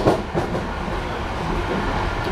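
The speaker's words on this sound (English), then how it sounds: "We are on the train." Steady low rumble of a train rolling along rails near Dún Laoghaire, Dublin, a continuous rattling drone with no voices.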